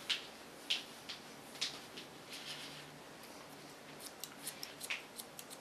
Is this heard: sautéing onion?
no